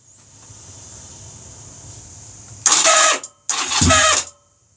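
A Honda Rebel motorcycle with carburetor trouble, cranked with no choke: two loud close bursts of starter cranking with the engine catching briefly, a short pause between them, after a quiet steady hum.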